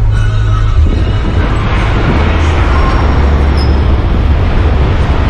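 Heavy traffic of large trucks and buses crawling along a jammed Indonesian highway near Bekasi, a loud, continuous low rumble of engines and road noise heard from inside a passing bus.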